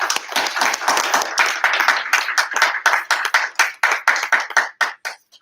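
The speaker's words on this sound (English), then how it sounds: "Let's give them one more round of applause." Audience clapping after a Bharatanatyam dance performance at a live arangetram: a close, steady round of many hands applauding, dense at first and thinning into scattered claps as it fades out, with no talk.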